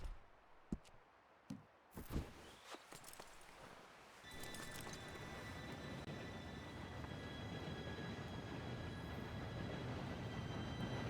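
A train approaching in the Red Dead Redemption 2 video game: a few sharp knocks and clatters, then a loud, steady rolling rumble with faint high squealing tones that swells and holds until the end.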